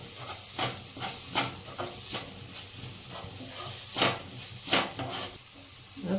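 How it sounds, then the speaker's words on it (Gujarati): Sauces being stirred into hot and sour soup in a hot pan: a spoon scrapes and clinks against the pan in a loose rhythm over a soft, steady sizzle, close and with no talk. "મિક્સ કરીશું આ રીતના."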